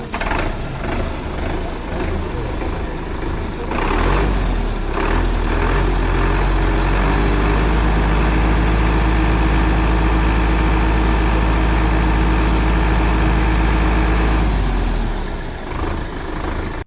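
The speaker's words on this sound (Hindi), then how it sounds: "तो ये हमारा 55 हॉर्स पावर का ट्रैक्टर है" A Sonalika DI 55 RX Sikander 55-horsepower tractor's heavy diesel engine idles steadily with a deep low rumble, running continuously and fairly close, with brief revving near the start.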